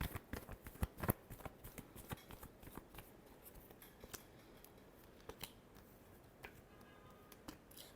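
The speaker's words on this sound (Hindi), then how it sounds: "Last shuffle." Tarot cards get a last shuffle up close, quiet, with crisp riffling slaps and clicks, busiest in the first seconds and then thinning into sparse soft taps.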